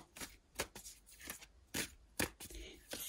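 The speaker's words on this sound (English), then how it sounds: "So let's do a quick shuffle." Several quick riffling bursts of oracle cards being shuffled, close and crisp, spaced irregularly with short pauses between them.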